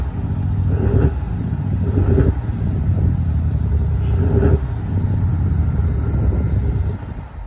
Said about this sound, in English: So let's have a listen to those exhausts.